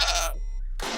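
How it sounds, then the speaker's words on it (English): A goat bleats loudly up close in a short wavering cry, cut off abruptly, from a recording made for Minecraft. "You can't hear these goats in any other game."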